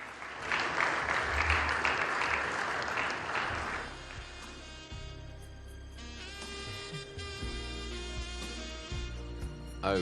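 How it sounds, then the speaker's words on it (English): A crowd at a continental aviation summit in Botswana applauds a panel with a loud, dense burst of clapping for about four seconds, after which recorded music takes over. "And another massive round of applause for our wonderful,"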